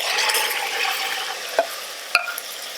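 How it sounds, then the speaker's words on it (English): Tomatoes being stirred in an Instant Pot, with soft frying sizzle and a couple of sharp spoon knocks against the pot near the end, close, no talking. "And then just stir it really good."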